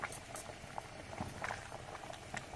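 Chicken gravy simmers in a pot as a continuous close bubbling and popping, soft and steady, with no voices.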